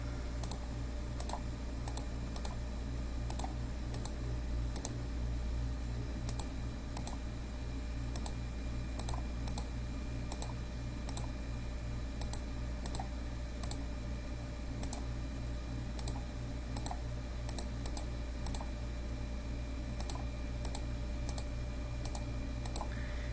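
Numbers being typed into a calculator's matrix editor, with light irregular key clicks in short bursts over a steady electrical hum, no one talking.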